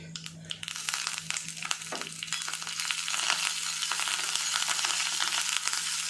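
Urad dal, chana dal and dried chili fry in oil, a continuous close sizzle broken by scraping, crunchy stirring strokes that grow denser and louder toward the end.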